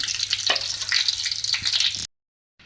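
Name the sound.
frying chicken vegetable cheese cutlets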